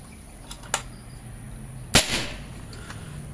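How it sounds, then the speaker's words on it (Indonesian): A single sharp, snapping shot from a 30 cm mini bullpup air rifle at 3500 psi, about 1056 fps, rings out, preceded by a faint click, with light background hiss. "Tembakan kedua"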